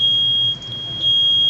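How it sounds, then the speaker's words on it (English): A smoke detector alarm sounds a loud, piercing high-pitched tone that holds steady and continuous, with a brief dip in the middle, over a low background hum. "smoke detector goes off"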